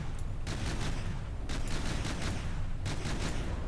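Heavy 500mm Hesher cannon fire in the naval game From The Depths, a loud sustained barrage with three clusters of repeated booming shots over a continuous rumbling din.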